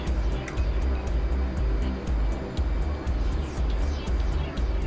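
A propeller airplane's engine roars through a takeoff roll, a loud, rough, throbbing drone with a rapid regular beat, while a voice speaks over it.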